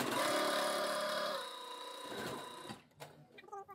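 A sewing machine runs a continuous stitching burst on lace fabric with the foot down and no back tacking, buzzing steadily up close before slowing and stopping, followed by small handling clicks.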